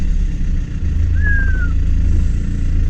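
A BMW E90 fitted with Eibach suspension drives along a road, its engine and road noise forming a steady low rumble from inside the car, with a brief faint whine rising over it.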